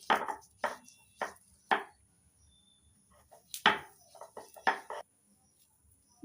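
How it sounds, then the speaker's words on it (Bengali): Jackfruit seeds crushed on a stone shil-nora grinding slab, heard as about a dozen sharp stone-on-stone strokes, close and distinct, in an uneven rhythm with brief pauses and little else around them. "আমি এখানে কাঁঠালের বীজ শিলনোড়ায় বেটে নিচ্ছি"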